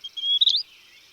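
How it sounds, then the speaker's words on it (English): A Western wood pewee gives a single nasal, slightly slurred peer call, clear and fairly close against a quiet background, about half a second long. "Western wood pewee gives a nasal pee"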